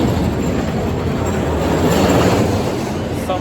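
A roller coaster train climbs the lift hill at California's Great America, making a loud, continuous rumbling clatter that holds steady throughout, with no talking.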